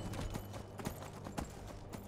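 Horse hooves clip-clop in Skyrim Anniversary Edition, a brisk, steady series of close, crisp hoofbeats in an even walking rhythm.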